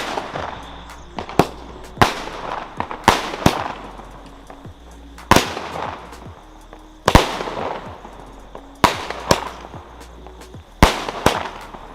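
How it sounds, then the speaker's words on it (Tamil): Diwali firecrackers from a 120-shot sky shot go off in sharp, loud bangs, irregular bursts and single pops spread across the clip, nearby and outdoors. "ஒரே வெடி 120 ஷாட் நம்ம வச்சாங்களா?"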